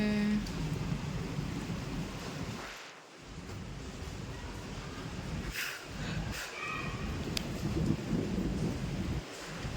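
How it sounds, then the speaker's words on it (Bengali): Steady rain pours down outdoors with low rumbles of thunder rolling through, the dense wash of falling water holding constant across the scene, broken by a few deep dips and swells as the storm grumbles. "এখানে দেখো কত সুন্দর বৃষ্টি পড়ছে"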